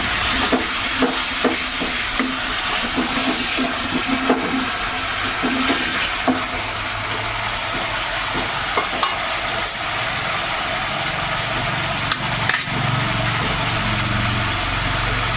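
Spice paste sautéing with a little water in a pan for a Bengali borboti and potato dish, a steady soft sizzle with scattered stirring scrapes and clicks, close and continuous without talk.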